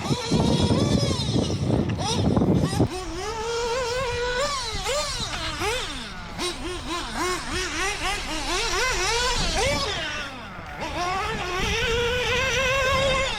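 An off-road RC buggy race car zips around a rutted track, its small electric motor whining and rising and falling in pitch as it speeds up and slows, with a person talking over it.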